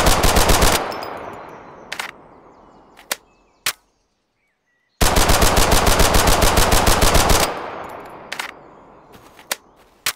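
Video game gunfire with infinite ammo: two long bursts of rapid automatic fire, loud and close, separated by a few sharp single shots and a moment of silence, with no talking.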